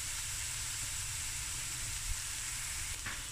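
Onions frying in a couple of tablespoons of oil in a pot, giving a steady, dense sizzle that holds evenly throughout, close and fairly loud with no talking.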